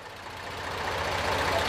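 A tractor engine idles with a steady, low, rumbling drone that grows slightly louder over a couple of seconds, heard alone.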